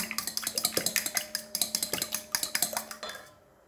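Four eggs beaten in a bowl for a small cream dessert, a quick, even clatter of a utensil tapping and clinking against the bowl, close and rhythmic, stopping at the end.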